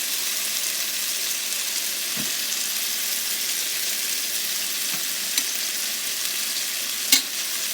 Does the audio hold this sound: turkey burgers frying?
yes